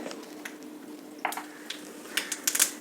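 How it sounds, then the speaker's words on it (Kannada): Mustard seeds dropped into hot oil for a tempering crackle and pop faintly, with a few sparse sizzles that grow into a small cluster of sharper pops near the end. "ಸಾಸಿವೆ ಹಾಕ್ತಾಯಿದ್ದೀನಿ ಎಣ್ಣೆ ಬಿಸಿ ಆಯಿತು"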